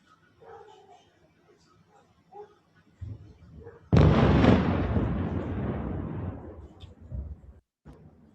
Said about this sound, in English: sirens alerted from an incoming Iranian projectiles. The Tel Aviv area of Israel and loud bangs could be heard on live stream